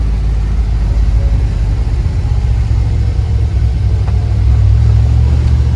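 A 1963 Chevrolet Corvette convertible with a 327 engine and four-speed gearbox, pulling in first gear at about 30 mph; a steady, loud, deep exhaust rumble that holds throughout without speech.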